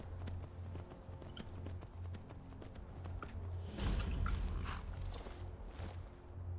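Horse hooves clip-clop at a steady walking pace in the video game Skyrim, a regular hollow thud pattern running throughout, with a louder burst of ambient noise midway.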